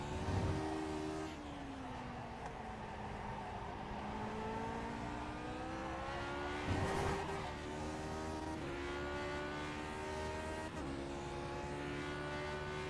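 Lotus 49 race car engine in iRacing at Watkins Glen, revving and accelerating through the gears with rising and falling harmonic tones, loud and continuous throughout, with a brief burst near the middle.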